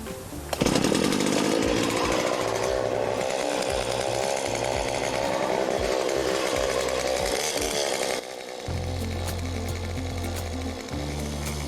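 A chainsaw cutting logs to length, its engine snarling loudly and steadily under load for several seconds, then dropping to a lower idle near the end.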